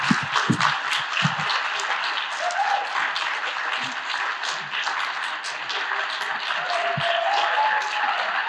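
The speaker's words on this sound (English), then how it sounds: "can we give our cohort a big round of applause again?" An audience at a capitol pathways graduation celebration applauds the cohort, dense sustained clapping with a few nearby louder claps at the start, continuing evenly with no talk over it.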